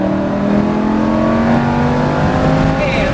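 A Lamborghini on a race track holds a loud, sustained engine drone under throttle, its pitch climbing steadily as it revs, close and continuous throughout.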